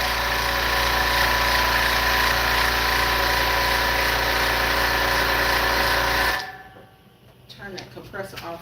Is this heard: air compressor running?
yes